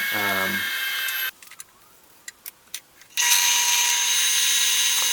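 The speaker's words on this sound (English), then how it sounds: "I tap the drill bit in to kind of like create a little well" A loud, steady high-pitched whine of a drill bit boring into steel while making a knife, cut off by a pause with a few clicks, then the grinding whine resumes.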